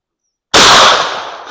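A 16 gauge shotgun firing a slug at a shooting range: one sharp, very loud report after a moment of silence, then a short fading echo.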